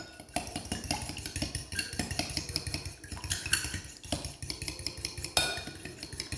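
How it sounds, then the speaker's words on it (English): Two whole eggs, white and yolk, whisked briskly in a bowl: a fast, continuous rhythmic clatter of whisk against the bowl, close and steady with brief pauses, no talking. "I'm going to put 2 full eggs. So the white and the yolk. Okay, whisk that up."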